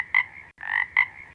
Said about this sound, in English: A frog comes out of the pond.